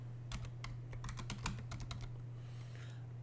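Quick run of computer keyboard keystrokes, a dozen or so soft clicks in an uneven burst over a steady low electrical hum, entering a yum local install command on a Linux system, then trailing off.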